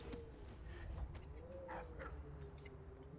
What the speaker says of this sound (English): The dog woke up. Guess they only sleep for a short bit.